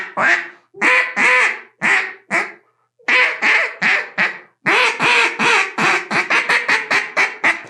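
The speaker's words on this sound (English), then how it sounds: "I'm going to blow a duck call every time you say something that has a lot of substance to it" A duck call is blown in loud, close quacks, first a few spaced single notes, then a pause, then a faster descending run of quacks building into a rapid chatter.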